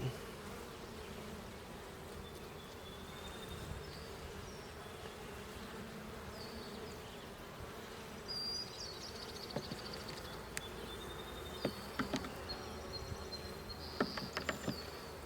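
Honey bees from a newly installed package hum steadily in an open hive box, a dense continuous buzz with occasional louder individual bees passing close near the end.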